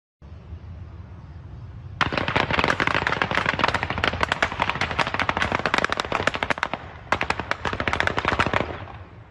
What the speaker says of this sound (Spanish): Son disparos al aire de un vehículo particular que pasó por la carretera aquí de Lobolato.